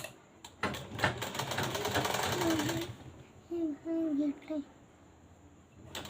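A sewing machine stitches a strip of fabric while making a sleeve, its rapid mechanical whirr running steadily for about three seconds, then stopping and leaving quieter room sounds with a few brief tones.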